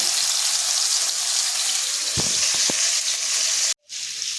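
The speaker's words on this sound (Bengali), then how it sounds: "ওদিকে মাছটা ভাজা হচ্ছে" Fish lightly frying in a pan at home, a loud steady sizzle close by, with a few quick utensil knocks partway through and a short gap near the end.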